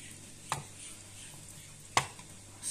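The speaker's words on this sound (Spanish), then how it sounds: "Lo primero que tenemos que hacer es cortar la carne de cerdo." A knife cutting pork meat for paella, heard as two sharp chopping knocks on a board spaced about a second and a half apart, with a steady low hum and quiet kitchen noise between.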